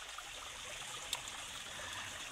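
Water trickling beside a creek while gold deposits are worked at the stream edge, a steady faint hiss of running water with no distinct splashes and no voices.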